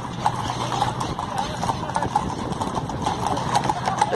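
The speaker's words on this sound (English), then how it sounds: "the horsey parade" Horses clip-clopping along a street in a town festival parade near Madrid, steady overlapping hoof beats close by with crowd chatter and voices underneath throughout.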